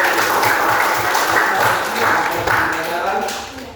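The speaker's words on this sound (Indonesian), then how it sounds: "Tepuk tangan dulu untuk kita." A school class claps together at the end of a religious education lesson, loud, even clapping with some voices mixed in.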